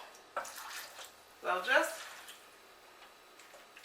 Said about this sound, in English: Then we're going to add the water.